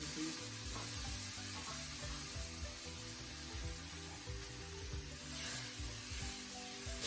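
Onion and green peas sizzle steadily in a pan, a constant close frying hiss with faint stirring scrapes and a low background hum, no voices.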